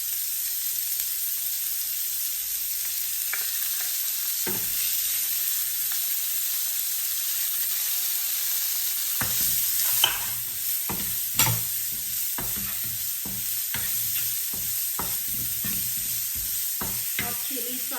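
Corn, onion and hot chili sauce sizzle steadily in a hot pan for fried rice, with scraping stir strokes joining in halfway through, close and continuous with no talking.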